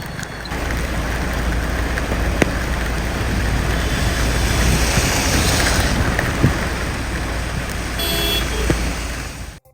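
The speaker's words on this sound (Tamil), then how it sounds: "விழுப்புரம் மற்றும் அதன் சுற்றுவட்டார பகுதிகளில் அதிகாலை முதல் இடியுடன் கூடிய கனமழை பெய்ததால்" Heavy rain falling in Villupuram during an early-morning thunderstorm, a loud, dense, steady broadband roar with a few faint knocks and no voices.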